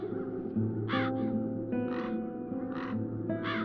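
Crows caw in The Dark Eye: Chains of Satinav, several harsh caws in a loose rhythm over a low droning background, close and clear with no talk.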